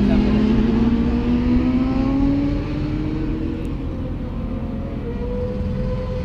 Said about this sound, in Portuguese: Z750 acelerando com a S1000 e com a drive 675.